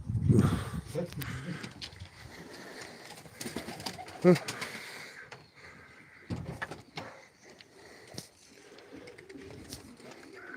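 Soft pigeon cooing mixed with scattered clatter and knocks, a voice speaking briefly in Turkish in the background, at a live pigeon auction, fairly close and moderately loud.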